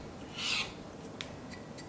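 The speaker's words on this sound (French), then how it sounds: "avec le couteau, je coupe en lamelles bien fines." A kitchen knife cuts fresh coriander into thin strips, giving one short rasping stroke followed by a few faint ticks against a low, steady background.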